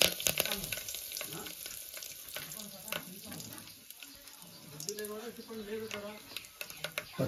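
Curry leaves crackle and sizzle as they hit hot oil already spluttering with mustard seeds, urad dal and chana dal for a South Indian tempering, a loud, busy frying hiss with sharp pops throughout.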